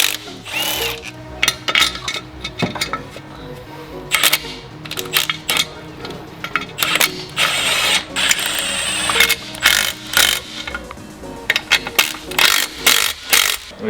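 A wrench works a bolt loose on a Mitsubishi Lancer Evolution 4G63 engine, making close, sharp metallic clicks, clanks and scrapes in irregular bursts over a faint background hum.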